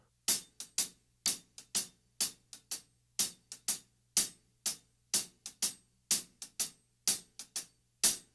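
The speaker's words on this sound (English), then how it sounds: "You'll hear that pattern on the hi-hat," Hi-hat alone plays a swung shuffle pattern, crisp paired strokes repeating in a steady loping rhythm, close and fairly quiet, with no voices.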